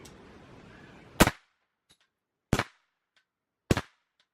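Three 9mm subsonic 147-grain gunshots fired outdoors at pine targets, each a sharp close crack with a short tail, spaced a little over a second apart after a brief stretch of quiet background.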